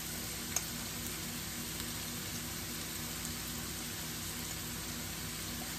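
Onions sizzle in hot oil in a pan with salt added, a soft, steady, even frying hiss continuing without pause, fairly quiet and close, with no talking.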